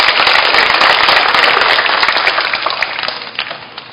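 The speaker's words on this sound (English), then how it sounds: "let's give Coach Kennedy a round of applause" A room full of people gives Coach Kennedy a round of applause at a morning talk: dense, steady, loud clapping that fades slightly toward the end.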